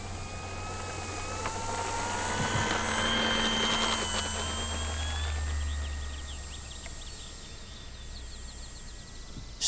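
Radio-controlled DuraFly Supermarine Spitfire Mk2a model plane on a calm dawn flight, a steady electric motor whine with shifting pitch as it passes, fairly distant, with faint birds in the background.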